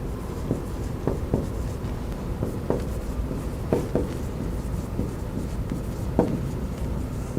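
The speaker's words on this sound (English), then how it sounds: "I'll just write it down here" A marker or pen writes notes by hand during an anatomy lecture, a series of short irregular scratching strokes and taps close by over steady room noise, with no talking.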